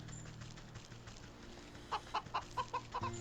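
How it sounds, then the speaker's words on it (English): A pheasant in the video game Wytchwood giving a chicken-like clucking call, a quick series of about seven short clucks near the end over a quiet, low ambient game background. "That pheasant sounds an awful lot like a chicken"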